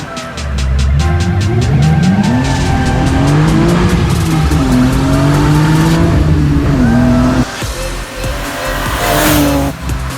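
A touring-car-inspired BMW E36 M3 road and race car, its engine roaring loudly as it revs up and down through repeated pulls, with tire squeal and rumbling shifts in a continuous, close-up run.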